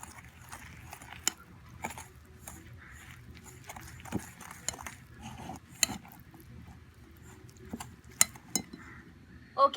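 A whisk mixing milk into cake batter for a Christmas cake, heard as irregular light clinks and taps of metal against a bowl over soft, faint background noise.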